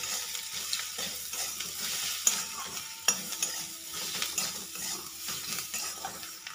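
Ground spices, red chilli powder and salt frying with onions in a pan, a continuous sizzle broken by spoon scrapes and a couple of sharp metallic knocks against the pan, close and without talk.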